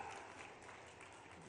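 Crowd applause at a political rally for women's monthly benefit payments, a steady wash of clapping held level through the short moment with no one speaking over it.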